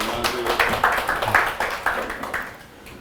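An audience claps at a lecture on commercial property investment, a brief burst of many hands patting in an uneven rhythm that fades out toward the end, with some voice underneath.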